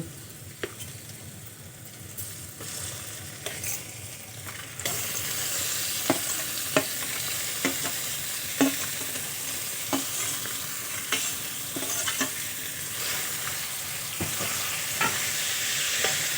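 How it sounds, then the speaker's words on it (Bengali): A spatula stirs boiled cauliflower and potato in a hot pan, giving regular scraping clacks roughly every second over a continuous sizzle that grows louder partway through. "খুব ভালো করে মিশিয়ে নেব।"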